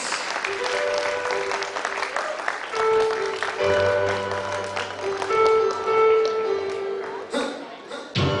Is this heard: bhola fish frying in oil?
no